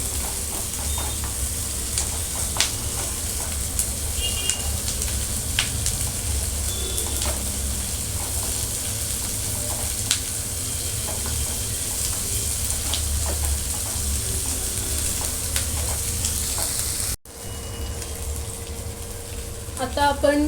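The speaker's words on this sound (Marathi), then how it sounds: "कांदा आपण छान परतून घ्यायचा आहे, त्याची ग्रेव्ही करायची आपल्याला" Onions sauté in a pan for a paneer gravy, a continuous close sizzle and frying hiss with occasional stirring scrapes, steady throughout apart from a brief dip near the end.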